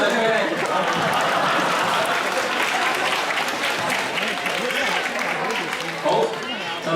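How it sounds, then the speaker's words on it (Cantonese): An audience at a Hebocon robot contest match in Hong Kong breaks into sustained applause, a dense, loud wash of clapping that stays steady throughout, with some crowd voices mixed in. "大家俾啲掌聲佢哋。"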